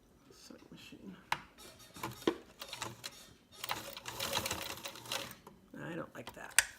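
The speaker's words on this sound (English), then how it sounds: "Sewing machine." A sewing machine stitches along the folded edge of fabric in several short bursts of rapid mechanical clatter with pauses between them, close by, with some quiet talk mixed in.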